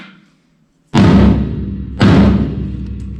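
A drum tech strikes a tom drum twice, each hit a loud, booming thud with a ringing decay, about a second apart, with no other sound between.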